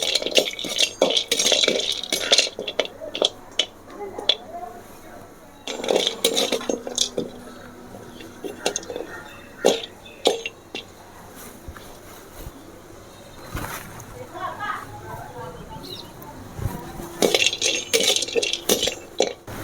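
Hard dried spices such as dried ginger, turmeric and sweet flag root being dry-roasted in a pan, heard as bursts of rattling, clattering and clinking as they are stirred and tossed, with quieter pauses between, close and fairly loud, no speech.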